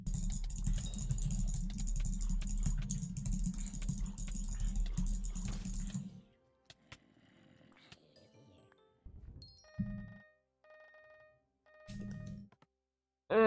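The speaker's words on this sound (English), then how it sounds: "Is my mouse and keyboard sounds really that loud?" Rapid computer keyboard typing and mouse clicking during a Hypixel Skyblock game session, a dense busy patter for the first six seconds, then sparse isolated clicks and short game sounds.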